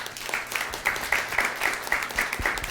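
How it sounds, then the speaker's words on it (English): Audience applause after a volunteer named Chelsea at a live body language show, a steady wash of many hands clapping with a few sharper, closer claps standing out in a loose rhythm. "Big round of applause for Chelsea"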